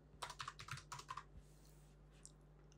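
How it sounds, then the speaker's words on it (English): A short run of crisp keyboard clicks, about eight quick keystrokes close by, then near silence over a faint electrical hum. "This is just me pressing one on my keyboard."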